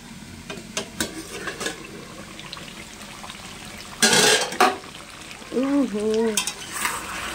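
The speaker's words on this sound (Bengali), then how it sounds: "এদিকে মাংসটা হচ্ছে।" Meat frying in a pan sizzles and crackles nearby, with stirring clatter and a louder burst of hissing midway, and a voice briefly sounds near the end.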